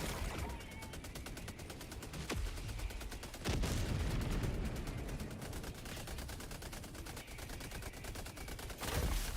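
Sentry turrets in Helldivers 2 fire bursts of rapid automatic gunfire back to back, with loud booming impacts cutting through the sustained rattle.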